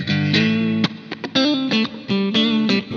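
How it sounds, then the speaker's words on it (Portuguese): Percussive playing on an instrument run through a heavy reverb effect: a run of struck, distorted notes whose tails ring and wash together, loud and close with no voices. "se eu for tocar algo mais percussivo, esse reverb vai acabar com o meu som"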